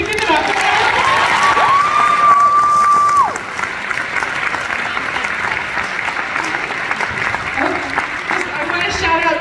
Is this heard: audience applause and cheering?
yes